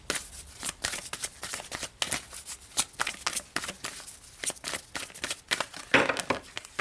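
Tarot cards are shuffled in quick, crisp riffling bursts, with a sharper card pull near the end; close and fairly quiet, with no talking.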